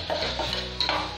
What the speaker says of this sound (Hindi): देखिए, इसे अच्छे से मिक्स करूँगी मैं